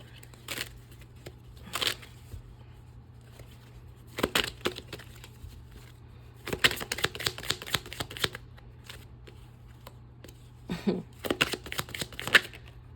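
Tarot cards being shuffled in repeated rustling, riffling bursts of crisp paper flicks separated by short pauses, close and fairly loud over a steady low hum.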